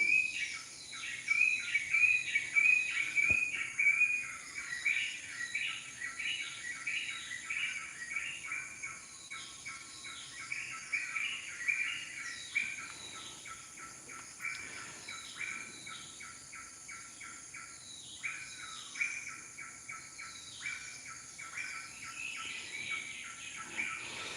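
Birds sing steadily in the background, a busy, fairly faint layer of chirps and tweets mixed with a constant high insect or cricket trill, continuous throughout with no talking.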